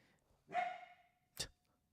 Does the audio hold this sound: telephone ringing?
no